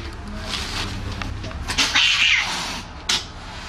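Two young male cats fight indoors in an apartment, yowling and caterwauling in a tense, rising exchange, with a sharp screech near the end, loud and close.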